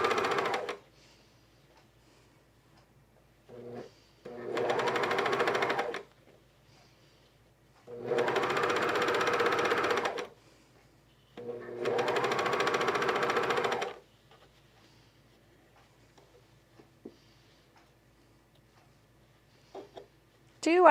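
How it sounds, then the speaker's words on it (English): Cover stitch machine sewing leggings, running in three bursts of steady rapid whirring a few seconds each, separated by quiet stretches with faint handling clicks; a person talks softly between the runs. "Do I think the cover stitch is the ideal machine for this?"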